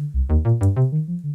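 A Behringer 2600 semi-modular synthesizer has its ADSR envelope generator triggered by a sequencer gate, giving a quick run of about seven loud, close, pitched synth notes, each with a sharp attack, and no talking.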